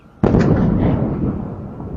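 Sudden heavy boom of a plant explosion, a loud broadband blast that keeps roaring and slowly decays over the following seconds, with no one speaking.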